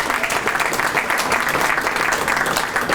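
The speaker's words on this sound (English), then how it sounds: "so let's give them a round of applause if we can." An audience at an inaugural flight event in Cleveland claps steadily in a dense, sustained round of applause, close and moderately loud, with no voices standing out.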